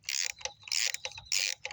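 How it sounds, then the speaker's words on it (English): Ratchet wrench loosening a 10 mm bolt on a Lexus SC430 engine, three quick bursts of close metallic clicking separated by short pauses, fairly quiet. "And loosen that bolt"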